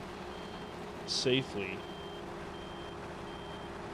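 A truck backing up in the Farming Simulator video game gives a short burst of reversing beeps, a few quick tones heard briefly over a steady low background hum.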